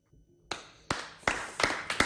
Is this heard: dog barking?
no